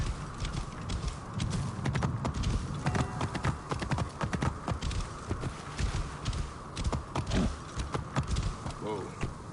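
A horse's hooves clop steadily and fast in Assassin's Creed Origins, a dense, continuous drumming of hoofbeats under ambient game noise.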